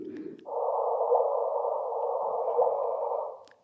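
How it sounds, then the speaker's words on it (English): Sonified raw gravitational wave data from two merging black holes: a steady, noisy hiss-like tone starts abruptly, holds for about three seconds with a couple of faint brighter blips, then cuts off. "what you have just heard was a merger of two black holes"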